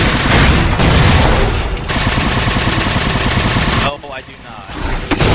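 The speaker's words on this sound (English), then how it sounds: "That is our last rocket." Rapid gunfire and explosions from combat in the video game Halo 4, a loud dense barrage of shots and booms that eases into a brief dip before sharp bursts return, with voices mixed in.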